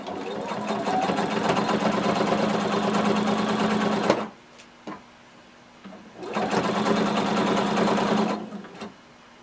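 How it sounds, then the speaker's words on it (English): A sewing machine stitches a pants seam on a Simplicity 1115 jumpsuit in two steady close-up runs of about four and two seconds, separated by a pause with light clicks. "we're just going to sew until we reach the existing stitching line where we started our stitching for our pants"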